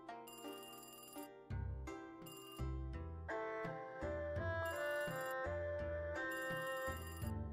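A repeating electronic ringing tone sounds in bursts over a steady musical backing, loud and close throughout.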